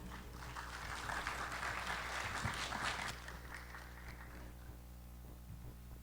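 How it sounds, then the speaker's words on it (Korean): Audience applause greeting a presenter at a Korean seminar on V-Ray for SketchUp, a steady wash of clapping over a low room hum for about three seconds before it thins and fades. "여러분 따뜻한 박수로 맞아 주시기 바랍니다."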